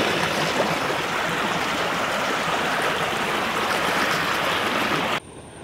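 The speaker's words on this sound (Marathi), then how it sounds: "आमची नदी मस्त ओसंडून वाहू लागली" A swollen, muddy village river runs high after overnight rain, giving a steady, full rushing wash of water that stays loud and even throughout, then drops off abruptly near the end.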